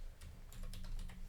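Quick bursts of keystrokes on a computer keyboard, several light clicks in an uneven rhythm, faint and close over a low hum, no speech.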